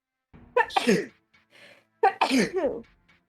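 Two sneezes in quick succession, close and fairly loud, each with a sharp breathy burst, separated by a brief pause.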